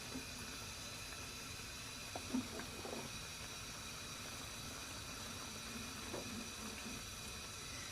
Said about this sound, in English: So the vegetables are continuing to bubble and cook.